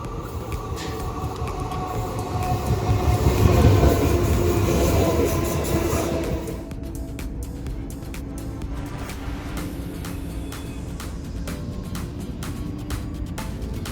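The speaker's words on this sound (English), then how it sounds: "I can finally see the train coming" A commuter train on the Uppsala to Stockholm line pulls into a station. Its deep rumble swells and then eases as it slows, leaving a quieter rolling hum with light clicks and squeals near the platform.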